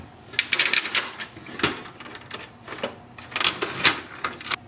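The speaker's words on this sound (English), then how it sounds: "Paper tray is at the bottom, so we can just pull it out, adjust the size." Plastic paper tray of a Brother MFC-L2710DW laser printer being pulled out and adjusted, a quick run of sharp clicks, rattles and sliding knocks in irregular bursts, close and fairly loud.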